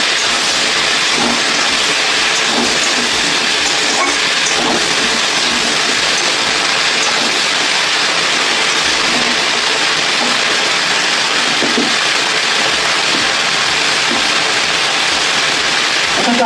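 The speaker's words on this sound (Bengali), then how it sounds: "আলুর সঙ্গে ভেন্ডিগুলো ভেজে নেবো।" Okra and potatoes fry together in a pan with a loud, steady, dense sizzling hiss that runs unbroken throughout, with no voices.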